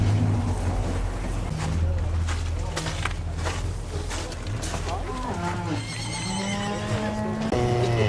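A horse at a livestock market whinnies loudly and close, a long shaky neigh rising then falling near the end, over a busy outdoor crowd with people talking throughout.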